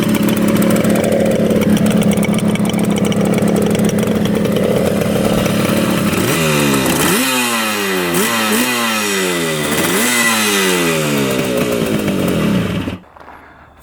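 A rare two-stroke motorcycle that sat twenty years in a barn, idling on its first start: a loud, steady, raspy engine burble throughout, with a few rhythmic rising-falling throttle blips in the second half before it cuts off near the end.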